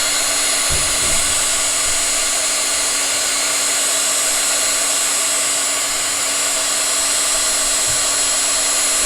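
A heat tool blows constantly and loudly while heating embossing powder to set it, a steady whooshing hum with a fixed tone, and a few soft bumps near the start.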